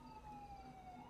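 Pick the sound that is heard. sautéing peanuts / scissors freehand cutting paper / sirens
sirens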